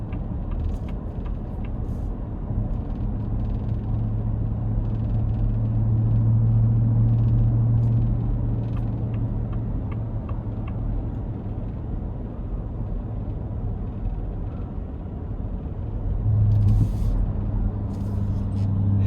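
A 2026 Ford F-150 Raptor R rumbles with a deep, steady engine drone from the driver's seat, its tone swelling twice as it is pushed harder, over continuous road noise.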